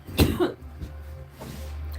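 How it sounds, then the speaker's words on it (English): A burst of harsh coughing near the start, followed by a quieter cough or two over a low background hum. "Still coughing."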